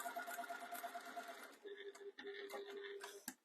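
A sewing machine runs steadily while stitching the pocket of a fabric jewellery pouch, a faint whirring hum with a tonal buzz that shifts pitch midway, broken by a few short pauses and a click near the end.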